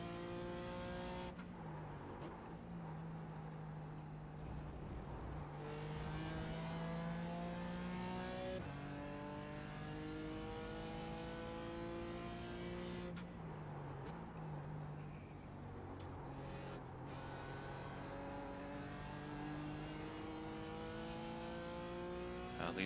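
A BMW M4 GT4 race car revs at Watkins Glen in iRacing, its engine pitch climbing in repeated gear-by-gear sweeps, with shifts between them and a brief lift partway through, loud and continuous.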